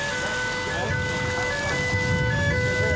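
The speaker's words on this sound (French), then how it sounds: "une balise de détresse retentit sur toutes les fréquences radio" A distress beacon sounds over firefighters' radio channels during a wildfire threatening a fire station, a loud steady electronic tone with sustained pitched lines over rumbling engine and radio noise.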